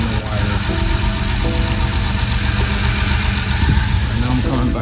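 A car engine idling smoothly after repair of a cylinder 6 misfire: a loud, close, steady mid-pitched rumble with an even, continuous drone and no stumbles.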